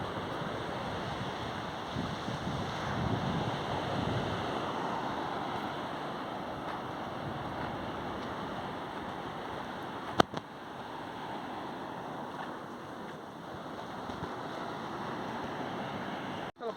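Ocean surf at Honey Beach in Uttara Kannada, Karnataka, washes in a steady, unbroken roar with wind buffeting the microphone and one sharp knock partway through.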